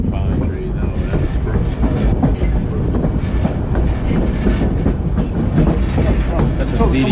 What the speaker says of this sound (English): Got a train in front of us.